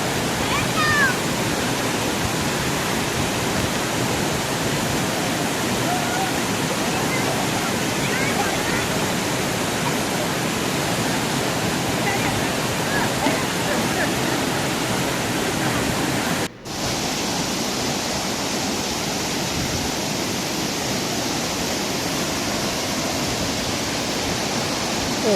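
Athirappilly waterfall roars with a steady, loud broadband rush of falling water that fills the whole scene without a break, with only a momentary dropout near the end.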